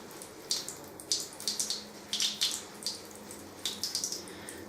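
Cold water running from a tap during a handmade soap lathering test, heard as a steady trickle with splashy bursts as hands move under the stream, fairly close and quiet, with no talking.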